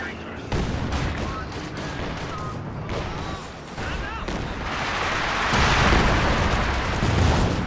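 Mortar and infantry gun artillery strikes in the video game Company of Heroes 2 land as a dense barrage of booming impacts and crackling gunfire. The explosions are loud and continuous, with commentary talking over them.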